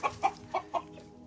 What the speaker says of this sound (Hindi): पीसफुली बतख और मुर्गियाँ और मुर्गे एक दूसरे के साथ इसमें रहते हैं।